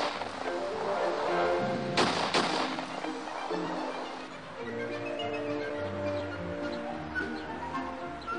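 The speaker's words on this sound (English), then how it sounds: "Next, we played a tape of gunshot sounds." A tape recording of gunshots plays outdoors in a residential neighborhood: a pair of sharp bangs in quick succession stands out over a continuous low background bed.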